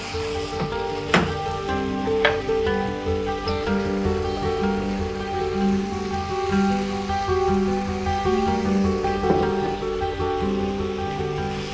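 Broccoli fried rice sautéing with garam masala in a pan, a steady crackling sizzle with a few sharp clinks of a utensil against the pan, close and continuous, with background tones beneath.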